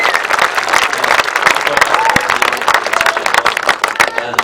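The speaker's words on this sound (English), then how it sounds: "He's having a hard time at the moment, and that deserves a round of applause." Crowd applause for the race winner at the 2016 British Masters Grasstrack meeting, loud continuous clapping from a gathered audience, with voices mixed in throughout.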